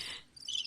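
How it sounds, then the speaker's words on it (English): A couple of brief, faint cricket chirps, high and thin against near silence, lasting under a second. "Crickets."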